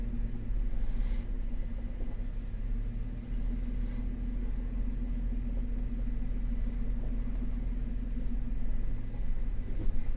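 Low, steady engine rumble from inside a vehicle towing a trailer slowly through a parking lot, a constant muffled drone with no speech.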